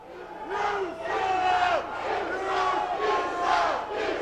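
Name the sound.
wrestling arena crowd shouting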